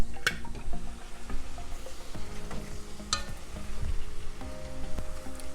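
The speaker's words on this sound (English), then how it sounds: "So I'm gonna still let it fry a few more minutes before I add in my pepper and my seasoning" Cabbage frying in oil in a pan, a steady close sizzle with crackles and scattered pops, occasional stirring clinks against the pan, no voice.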